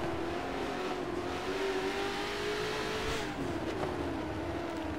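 McLaren GT3 race cars scream around the Nurburg GP circuit in a racing video game. A near engine note climbs steadily, briefly dips as it shifts, then picks up again, with no voices.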